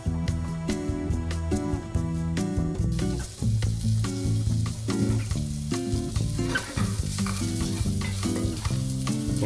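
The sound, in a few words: onions frying in a pan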